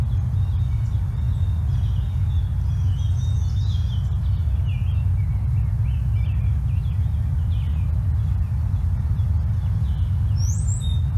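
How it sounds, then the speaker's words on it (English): A brown-headed cowbird sings in the field, its thin high notes faint and distant over a strong low rumble of wind or traffic, with other bird calls scattered throughout. "Right there was the brown-headed cowbird."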